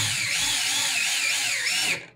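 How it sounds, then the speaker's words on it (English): A power drill drives a screw into a wall anchor during shelf installation, a short whining burst of about two seconds with wavering pitch that cuts off abruptly. "Set your screw."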